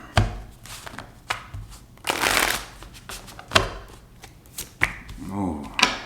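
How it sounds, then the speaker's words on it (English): Tarot cards are shuffled in several quick riffling bursts with soft taps between them, close by and fairly quiet. "Two more shuffles."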